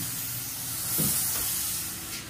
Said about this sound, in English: I think they're going to spray the door with open cell.